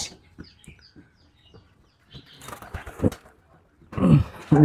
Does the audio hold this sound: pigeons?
yes